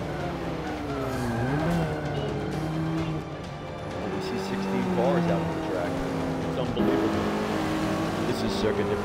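A 2013 Mercedes-AMG A45 racing a circuit in Prague in Forza, its engine revving up and down steadily under a continuous loud roar, with tire noise and a voice talking over it.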